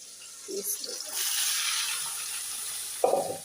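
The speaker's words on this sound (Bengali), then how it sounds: "মিষ্টি কুমড়া একটু ভাজি করি" Sweet pumpkin frying in a pan with a steady, soft sizzle through most of the stretch, broken by a few faint clinks near the start and a louder utensil knock near the end.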